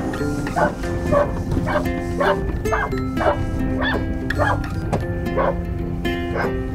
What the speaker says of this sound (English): there's a neighbor dog that likes to really start barking at this car